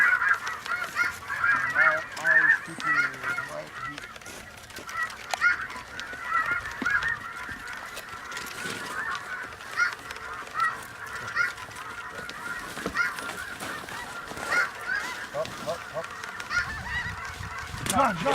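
Repeated honking snow goose calls play continuously from electronic speakers, layered and slightly tinny, with a faint voice briefly underneath, at a goose hunt in Missouri River bottoms.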